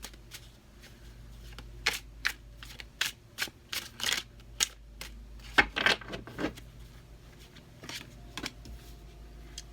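Tarot cards shuffled by hand in a quiet room, a run of sharp crisp riffles and snaps in uneven bursts, close and fairly loud over a low steady background hum.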